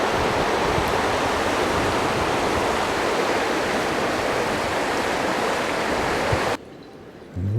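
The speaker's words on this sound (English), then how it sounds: "See how swift the river's flowing." A swollen river on the flooded Somerset Levels rushes swiftly past a bridge, a dense, loud roar of churning water that holds steady, then cuts abruptly to a quieter background near the end.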